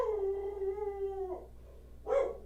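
A dog howls in a long, wavering tone for over a second, then gives a short sharp yelp, heard fairly close with no talk over it.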